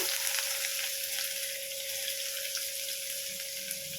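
Onions frying in hot oil with mustard and cumin seeds for a cucumber curry, a loud, steady, close sizzle that runs unbroken with no voices.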